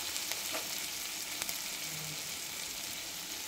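Tomatoes frying in a pan with ground spices for paneer bhurji, giving a dense, even sizzle that stays constant and fairly loud, with a couple of faint ticks.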